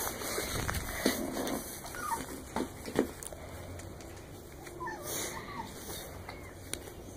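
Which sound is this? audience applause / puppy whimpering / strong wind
puppy whimpering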